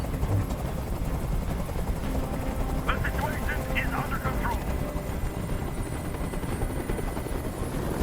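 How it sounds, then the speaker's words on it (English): A helicopter hovers overhead in the game Detroit: Become Human, a steady loud rotor drone running throughout beneath a voice. "Tell that helicopter to get out of here."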